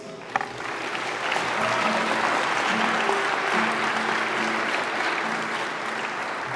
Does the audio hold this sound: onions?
no